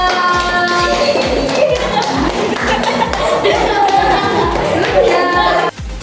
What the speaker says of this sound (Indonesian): Oke, tepuk tangan untuk kelas 6.